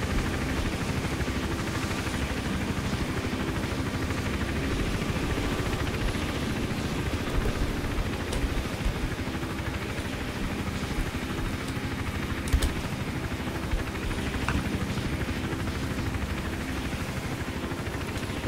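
A helicopter in the video game Hitman Absolution drones continuously overhead, a steady, dense rotor and engine wash that holds at an even level throughout without pauses.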